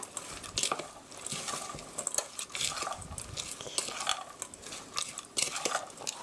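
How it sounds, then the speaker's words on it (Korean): Green onion pancake batter seasoned with ground black pepper is stirred in a bowl, a steady run of close, wet slapping and clicking utensil strokes at a quiet level. "도로 섞어주세요"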